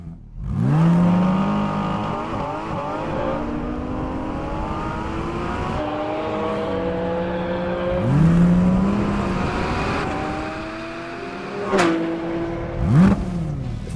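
A Porsche GT4 RS's 4-litre naturally aspirated flat-six climbs repeatedly through the gears toward its 9,000 RPM redline, wailing up and dropping between shifts, loud and sustained with sharp pops near the end.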